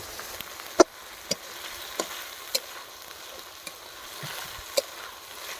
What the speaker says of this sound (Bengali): পেঁয়াজগুলোকে হালকা করে ভেজে নেব